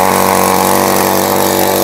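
A cheap mini power tiller's engine runs steadily at close range, a loud, continuous mechanical drone with a buzzing, lawn-mower-like tone that holds even before cutting off abruptly at the end.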